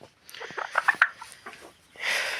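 A flock of hens and roosters clucks in a run of short, close bursts, ending in a louder, noisier scuffle.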